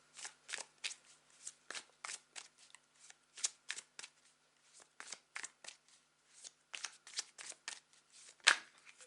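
A tarot card deck being shuffled by hand: a quick series of soft, crisp riffling bursts, close and fairly quiet, with short pauses between them and no talking.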